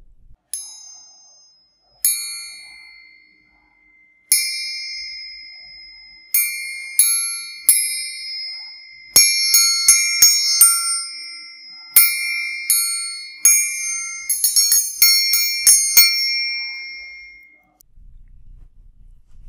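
Triangle hanging from a string and struck with a steel beater, its bright metallic tones ringing out and overlapping in an uneven rhythmic pattern, close and clear for about seventeen seconds before fading to quiet, with no voices.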